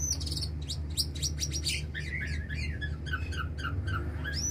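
A caged white-rumped shama (murai batu) sings close by in a rapid run of bright chirps, whistles and sweeping notes over a steady low hum.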